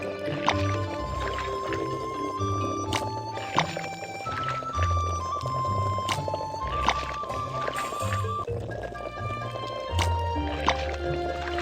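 Cartoon kitchen sounds of boiled eggs being scooped from a pot of water: sloshing, dripping liquid and light clinks in irregular bursts, with short bright accents between them.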